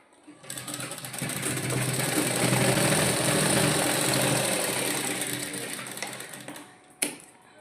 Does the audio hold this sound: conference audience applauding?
no